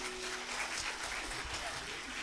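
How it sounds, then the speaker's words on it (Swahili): A church congregation at a Kikuyu Sunday service applauds in a steady, dense wash of clapping that fills the whole short stretch at an even loudness, with a few voices mixed in. "Tuwapigie makofi tena."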